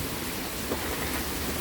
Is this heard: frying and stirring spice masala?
no